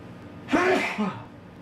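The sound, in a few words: sneeze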